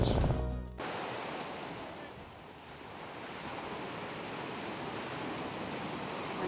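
Ocean surf rolls onto a North Shore beach as a steady broadband wash, beginning with a brief louder burst of sound before settling into continuous, fairly close wave noise with some wind.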